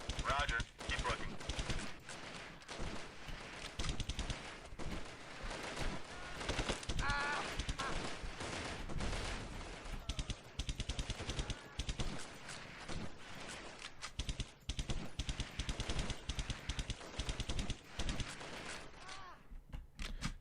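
Dense machine-gun fire from the 1998 video game Delta Force rattles almost without a break as shots come in at the player, loud and close, with some talk mixed in.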